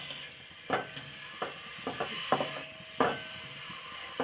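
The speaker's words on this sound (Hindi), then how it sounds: "उसके बाद हम इसमें ये चॉप की हुई प्याज डालेंगे। ये प्याज का हमको थोड़ा सा कलर चेंज करना है।" Chopped onions frying in a pan for murgh cholay, a low sizzle broken by irregular scraping and clattering knocks of a spoon stirring against the pan, close and alone.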